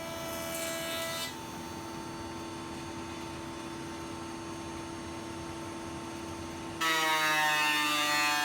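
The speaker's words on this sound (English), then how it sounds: "First I flattened one face on the jointer, and then flattened one edge 90 degrees to that face." Jointer planing the face of an old hardwood board, a steady loud machine drone with cutter whine running throughout, the pitch and texture shifting sharply near the end as the board feeds through.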